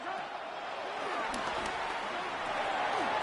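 Football stadium crowd roaring steadily during a late third-down play, a broad sustained wash of cheering with a few faint claps and whistles, heard over light commentary.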